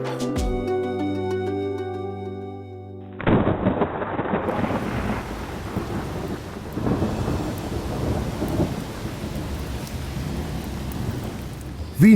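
Monsoon rain pours heavily in Delhi during a thunderstorm, with deep rolling thunder under a dense, loud wash of rain, following a brief stretch of music.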